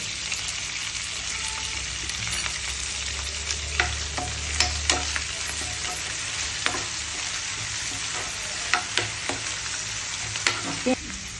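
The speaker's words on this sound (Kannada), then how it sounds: "ನಂತರ ಅದರಲ್ಲಿ ಮೆಂತ್ಯ ಸೊಪ್ಪು ಹಾಕೊಳ್ಳೋಣ" Chopped fenugreek leaves sizzle steadily in a hot pan, with a spatula scraping and stirring at intervals and a few sharper clinks, all close and without any voices.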